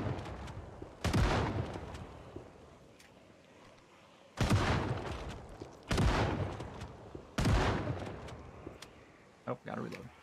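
Zombie video game gunfire: several loud bursts spaced a second or more apart, each with a booming decaying tail, plus a couple of short sharp shots near the end, with talk in between.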